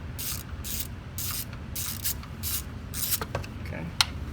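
Ratchet loosening the thermostat housing bolt on a BMW E30 with the M42 engine, a series of rhythmic rasping clicks in short even strokes, close up, followed by a few lighter clicks.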